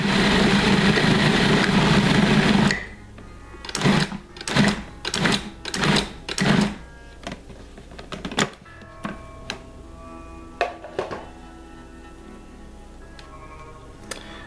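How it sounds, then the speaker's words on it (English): A food processor kneads sweet roll dough with a loud, steady motor whir for about three seconds. It then cuts off and gives way to a string of short pulsing bursts and scattered clicks and knocks. "this dough needs to be kneaded. Best way to do that is just letting the machine do the work."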